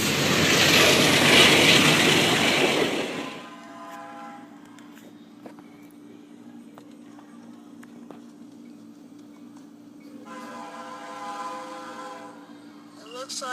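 A Canadian National freight train rolls past with a steady low rumble and horn-like tonal bands, loud and broadband at first as it nears, then easing to a sustained drone before swelling again near the end.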